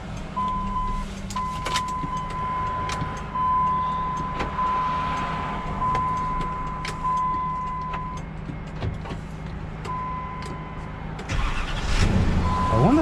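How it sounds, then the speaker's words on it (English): A Ram 1500 pickup with a broken tie rod is switched on using a tow truck key, giving a steady electronic chime tone over idle rumble and clicks, with a louder engine surge near the end. "I wonder if my key would actually turn the whole car on."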